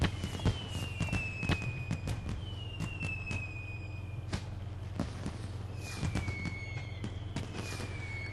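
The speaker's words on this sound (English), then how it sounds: "More fireworks." Fireworks in Final Fantasy XIV, with repeated crackling bangs and whistling rockets sweeping upward, bursts scattered throughout over a constant low drone.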